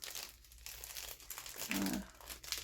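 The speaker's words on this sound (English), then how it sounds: "Watch your ears, crinkling will ensue." Plastic packaging around a piece of cross-stitch fabric crinkles softly and close by in a few short, dry bursts, with no talk over it.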